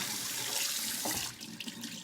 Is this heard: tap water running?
yes